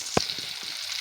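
Onion and bacon fry in a pan inside a camper van, a soft continuous sizzle with one sharp knock at the start and a couple of fainter taps.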